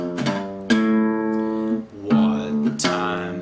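A blues guitar plays a bass lick from Skip James' "Illinois Blues," a few plucked low notes with sustained tones between sharp attacks, close and alone.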